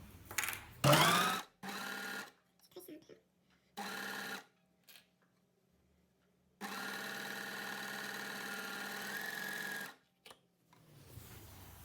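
Sewing machine stitching a long seam in jersey fabric, heard in several separate bursts of whirring at moderate distance, the longest run near the end, with quiet gaps and small handling noises between them.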